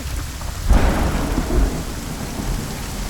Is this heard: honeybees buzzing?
no